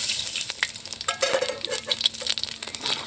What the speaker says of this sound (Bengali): ডালের জন্য ফোড়ন করে নেব তেজপাতা, শুকনো লঙ্কা, গোটা জিরে একসঙ্গে দিয়ে দিলাম।